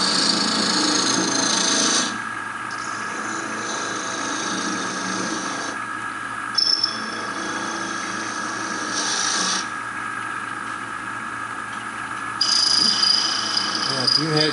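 A wooden duck turning on a wood lathe, the tool rasping and scraping against the wood in steady passes that swell and fade as cuts start and stop, with a faint voice now and then underneath.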